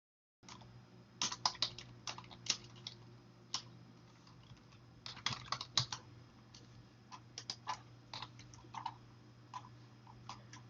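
Typing on a computer keyboard, quick irregular clicks of keys in short bursts, close and fairly quiet over a low steady hum.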